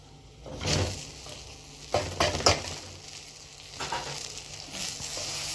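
Rice fried in a pot with a soft, steady sizzle, broken by a few scraping stirs and light clinks of a spoon against the metal, heard close with no talking.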